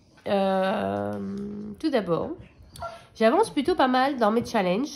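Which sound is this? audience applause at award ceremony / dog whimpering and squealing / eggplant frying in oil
dog whimpering and squealing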